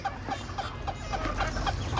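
Farm chickens cluck softly in a quick, regular series of short calls, about three or four per second, over a low, quiet background.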